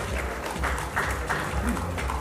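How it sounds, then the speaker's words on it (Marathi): An audience at a Marathi film music and trailer launch event claps in sustained, fairly faint applause, with a voice talking over it the whole time. "यांच्यासाठी सुद्धा जोरदार टाळ्या"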